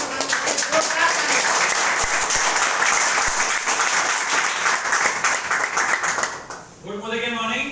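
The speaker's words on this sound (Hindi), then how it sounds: "मैं उनको जोरदार तालियों से बुला रहा हूँ" Loud, sustained applause from a large gathered audience welcoming a guest speaker, dense clapping filling the room for several seconds before a voice begins speaking near the end.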